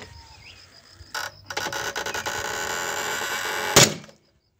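A pneumatic wrench works on a seized front sprocket nut: a couple of short bursts, then a sustained whirring rattle of the air tool, ending in a sharp loud impact before cutting to silence.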